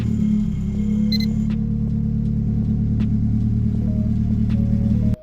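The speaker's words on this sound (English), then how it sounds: "It's been like maybe a week and a half since I turned this car on" A Nissan S14 with an SR20 engine, left sitting for about a week and a half, idles loudly and steadily up close, with a deep, even rumble that holds for the whole stretch before cutting off abruptly at the end.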